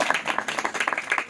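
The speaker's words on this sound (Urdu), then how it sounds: "آئیے زور سے تالیاں خدا کے لیے" A church congregation claps loudly for God during a sermon, a dense burst of many hands applauding in quick uneven rhythm, close and energetic.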